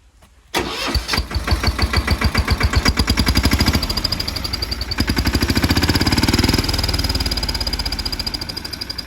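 A farm tractor engine cranks and catches, then runs steadily up close with a fast, even diesel-like chug that stays loud throughout, with no talking.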